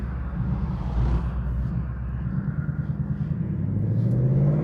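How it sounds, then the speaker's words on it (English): Ford Mustang GT V8 in a 2019 convertible driving along, a deep rumbling engine note heard from inside with steady road roar, rising in pitch near the end as it accelerates. "the convertible means you're gonna get the sound of that amazing V8"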